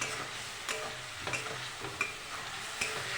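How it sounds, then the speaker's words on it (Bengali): Spice paste with turmeric and tomato sauce stir-fried in a pan for egg curry, a soft sizzle broken by periodic scraping strokes of a spatula, close and fairly quiet, without voices. "ভালো করে কষিয়ে নেব"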